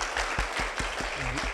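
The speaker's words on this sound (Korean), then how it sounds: "여러분 박수로 강연을 청해 보도록 하겠습니다" Audience applause welcoming a speaker at a fashion know-how conference in Seoul, a steady wash of many hands clapping throughout, with a few louder low thumps and a faint voice underneath.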